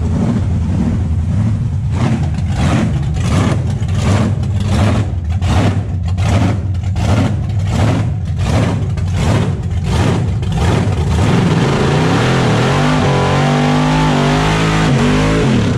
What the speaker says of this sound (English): I'm just gonna do a little high gear rip just to let him know where we're at.